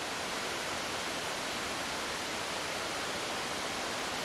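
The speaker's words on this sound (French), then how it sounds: "Alors voilà la cascade" Waterfall on the Chemin des Charles in Thiers, France, heard as a dense, steady roar of falling water that fills the scene without pause.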